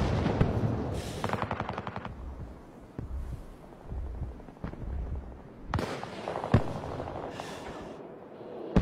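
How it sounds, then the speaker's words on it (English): In the video game Battlefield, bursts of rapid gunfire crackle up close, followed by scattered single sharp shots and thuds against a low hum, with no talking. "20-year veteran Grandpa snipes three players on a rooftop"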